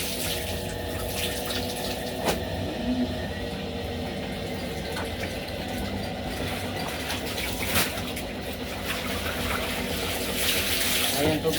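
Tap water runs steadily into a basin near laundry, a continuous close splashing stream with brief louder bumps.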